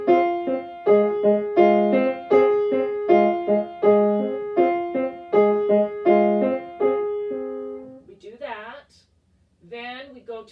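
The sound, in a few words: piano playing right-hand triplets against left-hand eighth notes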